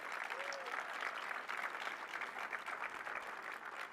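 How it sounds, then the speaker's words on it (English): Distant, steady applause from a crowd honoring port workers at a presidential speech, a dense continuous wash of clapping heard faintly, with a brief whistle-like tone early on. "Let's give a big round of applause for all of our port workers here who do the great work each and every day."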